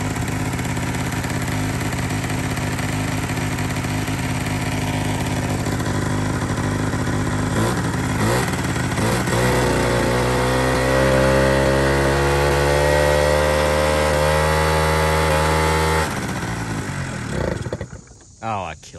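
A barn-find Honda Spree scooter engine runs loud and close, with steady harmonic idling that rises in pitch as it revs, then cuts out near the end as it stalls.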